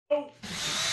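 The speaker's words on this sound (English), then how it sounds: "Broke the drill." A power drill whirs loudly during a kitchen renovation, starting abruptly after a brief burst of voice and then holding a steady, high-pitched motor drone to the end.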